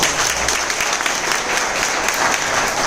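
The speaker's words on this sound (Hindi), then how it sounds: "सैल्यूट करते हैं इन लोगों के, जोरदार तालियां हो जाए" Loud, dense applause from an audience at a Mumbai head-office gathering, steady and continuous throughout with no pauses or voices on top.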